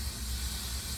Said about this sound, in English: that steam is going to go ahead and melt that cheese